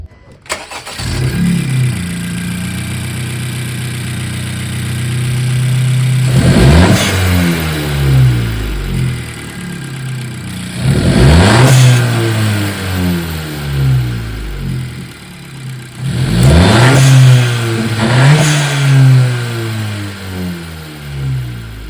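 The engine of a 10th-generation hatchback sport car idles steadily and is revved sharply three times, each rev rising then falling back to idle, loud and close.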